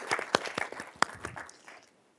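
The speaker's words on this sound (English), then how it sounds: "I hope you might join me in a round of applause for them to thank them for all their hard work" Central bank conference audience thanking the organizers and staff, a small scattering of distinct claps, loud at first, then tapering off to quiet.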